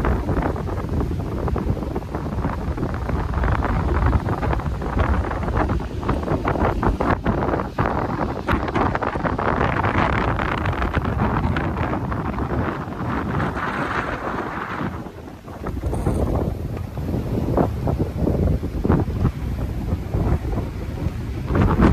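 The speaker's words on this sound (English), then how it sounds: "Oh, it's windy." Strong gusty wind buffets the microphone while cycling along the Han River near Seoul, a loud continuous roar with rumbling surges and a short lull, no speech.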